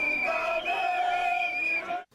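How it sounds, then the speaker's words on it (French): A huge crowd of opposition protesters fills the streets of Lomé, their loud massed chanting and yelling swelling close and continuous for a couple of seconds before cutting off abruptly. "C'est une foule immense qui est descendue dans les rues en ce premier jour de manifestation"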